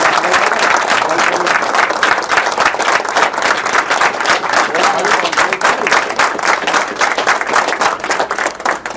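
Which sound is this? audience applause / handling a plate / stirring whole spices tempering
audience applause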